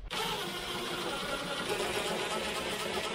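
Bolts on an Audi A3 radiator support are run down with a power tool, a sharp-starting, steady motorized whir that holds at close range for about three seconds.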